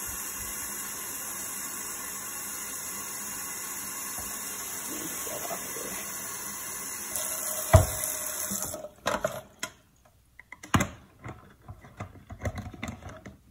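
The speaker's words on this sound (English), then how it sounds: "Then we're gonna fill it up with some hot water." Hot water runs from a tap into a container holding dish detergent for an oven cleaning solution, a steady rushing hiss that cuts off partway, followed by scattered clunks and splashes.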